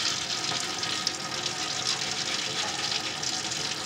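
Tap water runs into a kitchen sink as whole potatoes are rinsed before a seafood boil, a steady close splashing stream that continues without pause.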